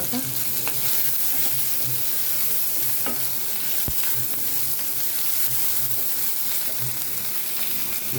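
Spice paste and garlic paste sizzle steadily in a pan for a Bengali tengra fish curry, with occasional scraping stirs cutting through the continuous frying hiss; no one speaks.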